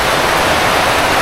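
A river running near a house in the Philippine countryside during the stormy season, a steady loud broadband rush of flowing water filling the whole clip, with no voices.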